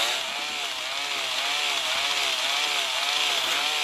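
A chainsaw cuts down a tree in a forest, its engine a steady, loud, close whine that holds without a break, with a faint wavering pitch as the chain bites into the wood.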